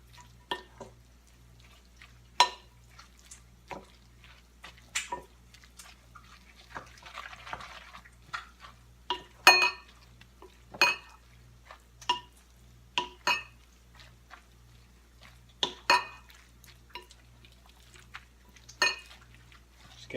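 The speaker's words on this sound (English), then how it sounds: "I've drained the pasta and I've added it to the sauce, and now I'm just going to stir" A spoon stirs drained pasta into an asparagus carbonara sauce in a pot, giving sporadic sharp clinks and soft wet squelches scattered over a quiet background hum.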